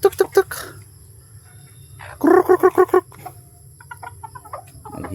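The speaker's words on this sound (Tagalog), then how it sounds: "naghimsa na yung isang manok." A chicken clucks in short rapid bursts, a quick run of loud clucks followed by quieter scattered ones against low background hum.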